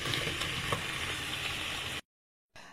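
Food with onion and bay leaf cooks in a pan, giving a soft, steady sizzling hiss that cuts out abruptly for a moment before resuming faintly; no one speaks.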